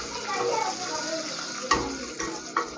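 Okra fried with green chillies is stirred in a pan, a steady soft sizzle with scraping strokes and a few sharper knocks of the spoon against the pan.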